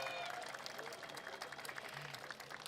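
A crowd at an outdoor political campaign event applauds candidates greeting local residents, with brief, fairly faint, steady clapping and some crowd noise under it.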